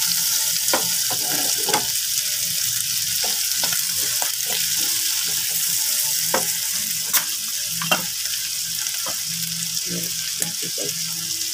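Shrimp frying in butter with black pepper is stirred in a pan, a constant close sizzle broken by irregular scraping and clacking strokes of the utensil, steady and fairly loud with no talking.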